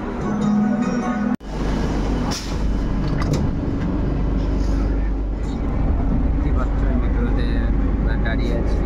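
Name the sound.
inside a crowded metro train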